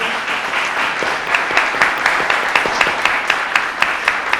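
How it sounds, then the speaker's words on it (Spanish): Congregation applauding in welcome during an Easter church service: a steady wash of many hands clapping at close range, with some sharper individual claps standing out, continuous throughout. "vamos a darle un aplauso de bienvenida, dando gracias"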